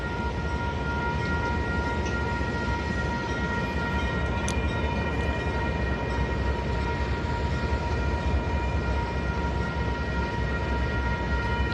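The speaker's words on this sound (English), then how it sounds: "train coming." Steady, continuous rumble of a train going by at a constant level, with low-frequency roar and faint tonal hum throughout, no speech.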